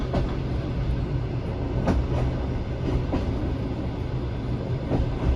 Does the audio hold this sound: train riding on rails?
yes